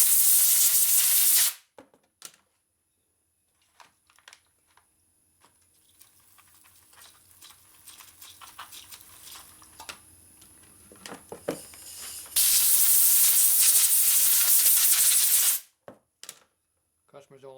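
Aerosol parts cleaner sprayed onto Harley-Davidson Sportster parts during a 1961 XLCH transmission and motor rebuild: two loud, steady hissing bursts of a couple of seconds each, at the start and near the end, with quieter scraping and handling noises between them.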